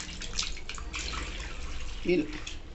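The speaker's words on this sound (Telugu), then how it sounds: "ఏమైతే కడిగి ఉంచామో వాటన్నిటిని ఇలా కొంచెం వాటర్ వేసేసుకుంటూ ఇలా గాలించుకోవాలండి." Green gram sprouts are swished and swirled by hand in a vessel of water, giving soft sloshing and trickling splashes, with a brief louder swirl near the end and faint voice nearby.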